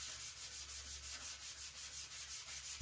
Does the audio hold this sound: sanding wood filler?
yes